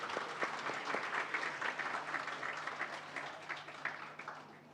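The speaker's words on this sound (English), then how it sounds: "A big round of applause for all of them." An audience at an HR conclave at a business school applauds panelists, producing steady clapping from many hands that holds at moderate volume before slowly tapering off.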